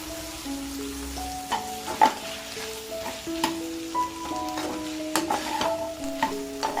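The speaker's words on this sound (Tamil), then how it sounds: "4 வெங்காயம் ஸ்லைஸ் பண்ணி வச்சுருக்கேன், அதையும் போட்டு இது கூடயே மிக்ஸ் பண்ணிக்கலாம்." Sliced onions and curry leaves stirred into chicken frying for a spicy South Indian onion chicken fry: a steady close sizzle with spoon scrapes and stirring knocks, faint music underneath.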